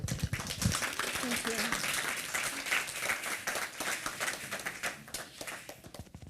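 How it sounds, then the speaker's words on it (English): Audience applause greets a speaker at a fungus fair, a dense wash of clapping filling the room for several seconds before fading as a voice begins to speak. "give her a round of applause"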